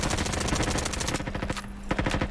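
Rapid automatic gunfire from the Roblox shooter Frontline, dense bursts of shots rattling steadily throughout, with a brief thinning partway through before the firing picks back up, loud and close.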